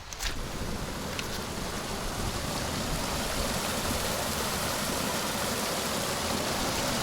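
Small stream on a boggy, rocky Scottish hiking path near Steall Falls, flowing with a steady, broad rushing wash that holds constant throughout, close by and fairly loud, with no voices.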